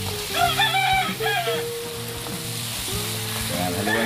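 Ground pork hits a hot pan of cooked tomato for picadillo and sizzles loudly and steadily close up, with a crowing rooster and other harmonic background sounds over the frying.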